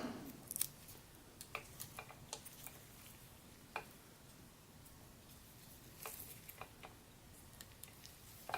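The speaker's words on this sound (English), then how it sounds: "Just going to cut the top of this packing tape and then fold this down." Scissors snip through packing tape wrapped on a Transformers Masterpiece Megatron MP-36 figure, giving a few quiet, close, scattered clicks and snips over faint room noise.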